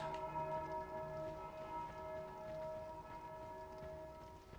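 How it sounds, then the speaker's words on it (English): Bells toll steadily in the video game Dark Souls II: Scholar of the First Sin, with a sustained, ringing drone beneath faint background hiss, fairly quiet and distant, no voices. "Now you can hear the bells ringing."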